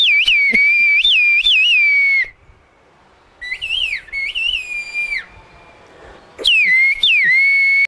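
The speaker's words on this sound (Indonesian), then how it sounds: "mungkin kita bisa beruntung mendengarkan langsung siulan-siulan" Loud, piercing human whistles in rising and falling glides, several bursts separated by a short quiet pause, carrying clearly like a whistled signal across open space.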